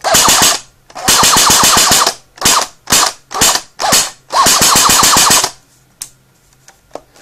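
An airsoft P90 rifle fires loud, close bursts of rapid, evenly spaced clicking shots, with several short bursts and two longer strings, then a few faint mechanical clicks after the firing stops.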